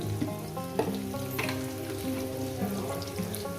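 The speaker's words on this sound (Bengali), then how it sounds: "একেবারে লবণটা আমি দিয়ে দিলাম দিয়ে প্রায় এটাকে আমি চার পাঁচ মিনিট আলুটাকে আমি ভেজে নেব" Potatoes fry with salt in a pan, a continuous close crackling sizzle with scattered pops and spatula clinks throughout, steady and fairly loud.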